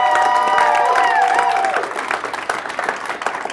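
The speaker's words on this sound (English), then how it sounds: "Can we give a big round of applause to all of them?" An audience at a startup accelerator demo day claps and cheers for the founders, loud and dense at first, then easing to lighter scattered clapping, with a whistle-like tone over the opening.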